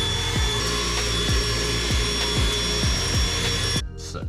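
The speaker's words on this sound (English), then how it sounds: "we should actually probably drill out this first." A power drill boring out spot welds in a car's sheet-metal body gives a steady, whining grind with regular heavy thumps, then cuts off abruptly near the end.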